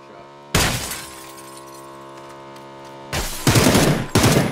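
Gunfire in the video game PUBG: two separate bursts of sharp, loud shots, one early and a stronger pair near the end, with a steady tonal hum in between.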